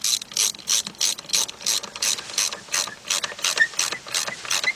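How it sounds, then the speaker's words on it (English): A hand ratchet tightening valve cover bolts on a Chevrolet Trailblazer engine clicks in quick, regular pawl bursts, about a dozen back-and-forth strokes in steady rhythm, close and distinct with no voices. "now we're going to go start to tighten them up"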